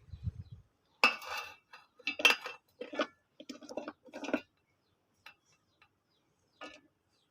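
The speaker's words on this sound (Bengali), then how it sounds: "দিয়ে দিচ্ছি কুচি করা আমগুলো ব্লেন্ডার জাগে।" Chopped mango pieces drop into a blender jar in a short run of soft, clinking and tapping thuds over about four seconds, followed by a few faint, isolated knocks in an otherwise quiet kitchen.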